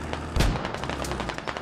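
Gunshot in a military shooter video game, one loud close boom standing out from a dense bed of battle noise and scattered distant shots.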